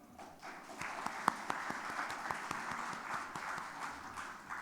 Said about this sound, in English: a big round of applause for Neerav Shah.